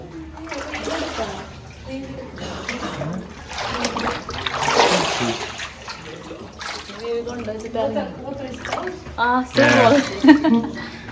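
Water runs and splashes from an outdoor shower before a cenote swim, rising and falling in bursts over several seconds amid murmured voices.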